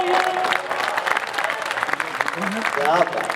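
Audience at a Hindi poetry recital in Udaipur clapping in a scattered, moderately loud burst of applause, with a voice speaking over and around the clapping.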